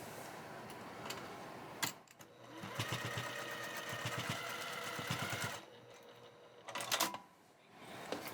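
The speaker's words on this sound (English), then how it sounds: "And then we're going to sew our bag together." A sewing machine stitches a fabric notions pouch, bursts of rapid mechanical needle clatter close up, separated by short pauses and handling clicks, with no talking over it.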